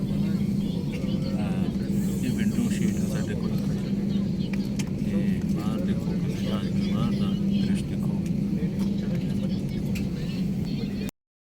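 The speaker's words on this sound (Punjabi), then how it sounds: "ਰਨਵੇ ਤੇ ਜਹਾਜ਼ ਹੁਣ ਇਸ ਤਰ੍ਹਾਂ ਰਨਵੇ ਰਨਵੇ ਤੇ ਚੱਲ ਰਿਹਾ" An airliner on a Delhi to Hyderabad flight rolls along the runway, a loud, steady low engine drone and rumble that holds unbroken for about eleven seconds before cutting off abruptly.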